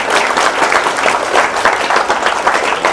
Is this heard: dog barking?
no